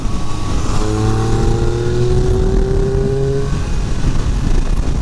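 A Triumph Speed Triple 1200 RR motorcycle rolls on the throttle, its engine note climbing smoothly in pitch as it accelerates, loud and close over wind noise.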